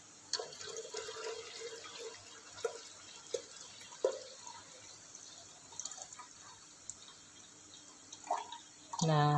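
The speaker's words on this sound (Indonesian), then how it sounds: "Ini saya masukkan airnya." Water from a container trickles and splashes into a soymilk maker jug in a home kitchen, with light dripping and a sharper knock near the end, at low overall loudness.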